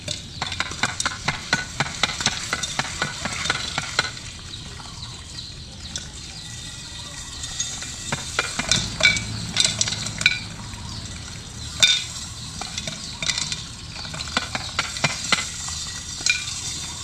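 Popcorn kernels cook in oil in a pot as it is shaken, producing a crackling sizzle broken by bursts of sharp pops and rattling scrapes that rise and fall unevenly.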